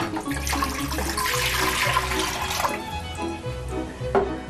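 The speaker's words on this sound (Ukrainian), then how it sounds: "Для маринаду потрібно 1 літру води вливаємо." Running water poured steadily into a cooking pot for a stuffed pepper marinade, one liter going in with a continuous splashing rush, close and fairly loud, with no voices over it.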